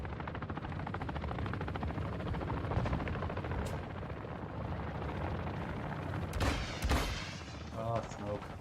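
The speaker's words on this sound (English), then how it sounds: "Cargo helo is inbound." A cargo helicopter in Call of Duty Warzone 2 on Xbox gives off a continuous rotor drone beneath scattered gunfire bursts and battle noise. Game sounds stay busy throughout at a moderate level.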